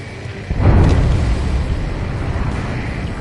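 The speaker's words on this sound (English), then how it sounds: "A huge explosion just went off underwater." A huge underwater explosion in the combat flight game Ace Combat 7 starts with a sudden deep boom about half a second in, then settles into a long, loud, low rumble that fills the rest of the clip.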